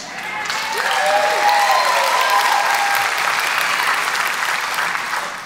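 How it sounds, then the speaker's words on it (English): Church congregation clapping during a service, a sustained, even wash of applause that swells in and holds steady, with voices and cheering faintly mixed in. "Nothing like clapping yourself."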